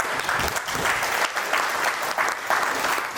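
Dense, continuous applause from a large seated audience at a business motivational seminar, loud and sustained throughout with no talk over it.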